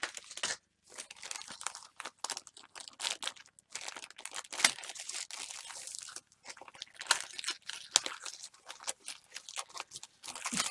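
Crunchy chocolate is chewed right at the mouth, giving a dense, continuous run of crisp crackling crunches with brief pauses, loud and close with no talking.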